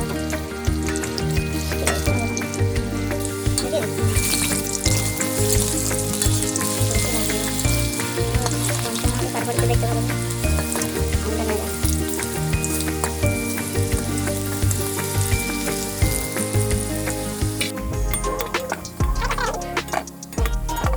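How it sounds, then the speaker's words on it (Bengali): Potatoes frying in hot oil in a wok, a loud, continuous close sizzle with crackling ticks and spatters for the whole stretch, with no talk. "তেলটা গরম হলে আলুগুলো কড়াই দিয়ে গোল্ডেন ব্রাউন কালার হওয়া পর্যন্ত ভেজে নেব।"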